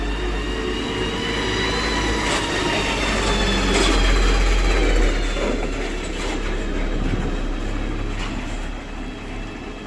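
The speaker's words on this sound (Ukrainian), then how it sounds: "Їде машина." A vehicle rolls past on a town street in Novovolynsk, a steady low rumble that swells to a peak around the middle and then fades, with a rattling, clattering texture and no talk.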